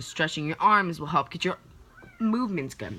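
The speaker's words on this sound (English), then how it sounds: "that's my cat." A pet cat meows clearly at close range, several drawn-out cries mixed in with someone talking indoors.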